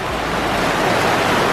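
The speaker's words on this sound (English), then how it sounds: "it is literally raining so hard right now" Heavy rain pours down in Hawaii, a loud, dense, constant roar of water close to the microphone with no voices.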